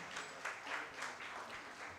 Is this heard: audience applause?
yes